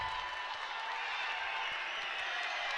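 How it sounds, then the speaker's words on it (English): A packed arena crowd at an NCAA women's volleyball match, Bowling Green at Green Bay, roars and applauds during a tight fifth set. The cheering is loud, dense and steady throughout. "Crowd is starting to get loud."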